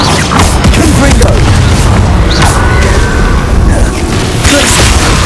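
Fiery blast spells from Hogwarts Legacy gameplay burst in rapid succession, loud booming impacts and crackling explosions layered over dense combat noise, with a voice calling out spell names.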